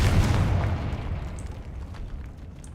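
A Confringo spell detonates in Hogwarts Legacy inside a decayed catacomb, one loud close boom with a deep low-end burst that rolls off into a fading rumble and scattered debris crackle.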